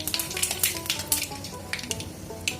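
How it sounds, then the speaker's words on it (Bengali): Whole spices and a bay leaf sizzle in hot oil, a close, steady frying hiss dotted with small crackles and pops, with no talk. "এই তেলের মধ্যেই আমি দিয়ে দেবো সামান্য ফুটন, তেজপাতা"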